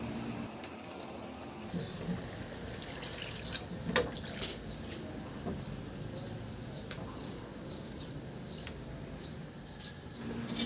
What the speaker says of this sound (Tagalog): lagyan ko na rin ng tubig para pampalambot sa ating karni